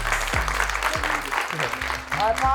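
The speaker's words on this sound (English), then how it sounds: "Round of applause for me, everybody." A small group claps in a short round of applause, with a steady patter of hands and a low hum under it. The clapping stays moderately loud throughout.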